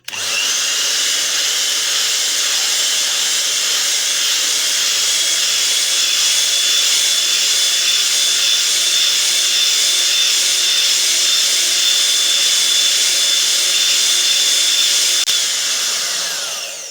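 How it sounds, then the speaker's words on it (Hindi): An electric mixer whirs loudly and steadily, beating egg yolks with vanilla essence for a sponge cake batter, a continuous high buzzing hum that holds for the whole stretch before easing off at the very end. "अब हम इसको फेंटेंगे दोबारा।"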